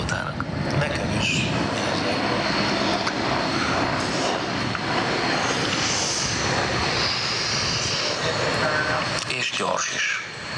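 An Agusta A109 helicopter of the Belgian Air Force performs at an air display, its engine and rotor a continuous loud roar through the whole stretch, with crowd or commentary voices mixed underneath.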